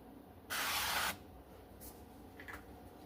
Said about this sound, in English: our canola oil spray instead of